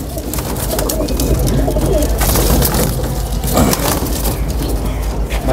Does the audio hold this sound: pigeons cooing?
yes